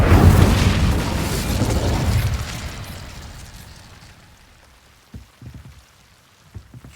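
An Incendio fire spell in the Hogwarts Legacy video game bursts with a loud whooshing roar of flame, which fades over several seconds into quieter crackles and small pops.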